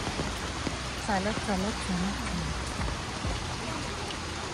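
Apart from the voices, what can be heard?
heavy rain while walking outdoors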